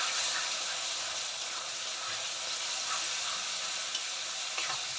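A paste of ground ginger, cumin, green chilli, garlic and onion fries in a pan for methi chicken, giving a soft continuous sizzle and hiss at a low, even level.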